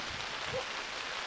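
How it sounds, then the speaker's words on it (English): Rain hisses steadily during an outdoor tournament baseball game, a constant dense wash of falling drops with no other sounds standing out. "it looks like this rain is going to keep up"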